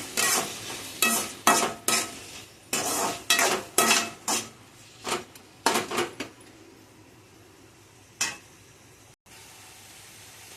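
Onions and tomatoes frying in a pan while a utensil stirs and scrapes them in a quick run of close metallic strokes, then a few slower scrapes over a soft sizzle.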